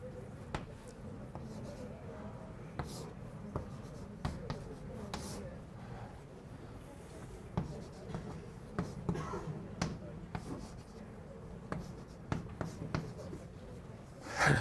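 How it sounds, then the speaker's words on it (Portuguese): Chalk tapping and scraping on a board during a university calculus lecture, a steady run of short knocks and strokes up close, some louder, heard without speech. "Eu vou escrever explicitamente"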